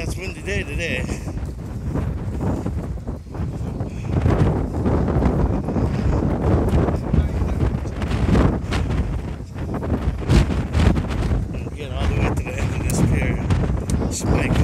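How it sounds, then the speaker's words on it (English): Strong wind buffets the microphone on a fishing pier at Pacifica, a loud continuous rumbling roar with gusting surges, while a person speaks intermittently underneath. "it's a windy day today"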